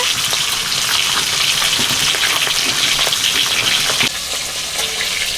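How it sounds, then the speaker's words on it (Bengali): Pieces of rohu fish fry in hot oil in a Bengali home kitchen, giving a loud, steady, crackling sizzle that hisses on without pause and drops slightly in level near the end. "বাকি রুই মাছগুলো ভেজে নিচ্ছি"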